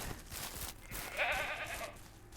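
In the video game Ranch Simulator, a single bleat rings out over a dense murmur of goats and sheep, the calls close and clear with no talking.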